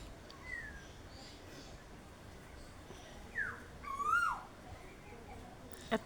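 An Asian koel gives a few faint, distant rising whistled calls, one clearer call midway, over a soft background hiss.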